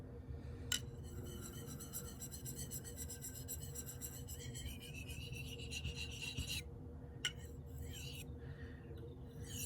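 A CPM3V steel knife is sharpened on a fine whetstone, a close, continuous rasping stroke with faint clicks, steady and fairly quiet.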